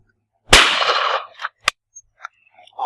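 A shotgun fires once, close and loud, with a sharp blast and a brief decay, followed by a few quieter clicks and clanks from handling the gun.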